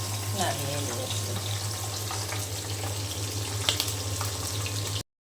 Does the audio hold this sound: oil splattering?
yes